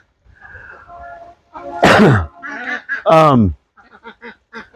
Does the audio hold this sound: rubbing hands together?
no